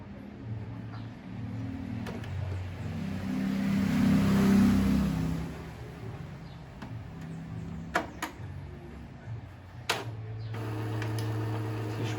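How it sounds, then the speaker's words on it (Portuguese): An Epson L4150 inkjet printer runs a print-head cleaning cycle, a low mechanical drone that swells and fades, followed by several sharp clicks and a renewed steady hum, with no talking. "a impressora, ó, ela tá piscando aqui e tá fazendo um barulho"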